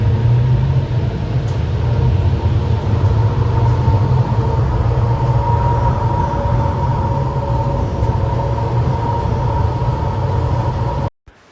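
Airport shuttle train at Seattle airport running toward the D gates, a steady close rumble with a humming tone over broadband rail noise, continuous and unbroken until it cuts off abruptly at the end.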